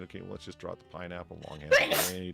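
A single sharp, loud sneeze bursts out near the end, right after several people chat casually in a bar.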